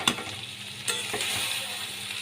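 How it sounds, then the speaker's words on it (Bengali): Bhola fish sizzling in hot oil as it is stirred with chili powder, with a few sharp scraping stirs over a steady frying hiss, close and fairly quiet. "মাছগুলোকে দিয়ে এবার ভালো করে মাছগুলোর সাথে কষিয়ে নিতে হবে।"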